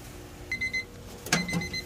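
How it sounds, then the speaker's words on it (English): A cooking timer goes off beside a steak grill, one short bright electronic ring or beep burst near the end, loud and close over faint background noise. "there's the timer"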